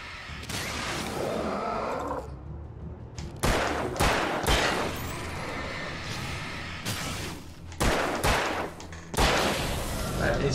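Repeated bursts of gunfire in Alan Wake crack out in several clusters, sharp and loud, with a rumbling background and mechanical clatter between them.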